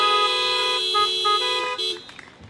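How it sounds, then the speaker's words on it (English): Car horns honk outside a church worship gathering, tonal blasts layered with steady harmonics across the whole stretch, fairly loud and close, fading near the end into scattered faint sounds. "we can hear some horns honking"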